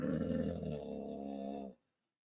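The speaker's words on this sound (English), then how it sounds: "I'm sorry about my dog." A dog growls up close in a steady, low, rumbling growl that lasts under two seconds, then cuts off into silence.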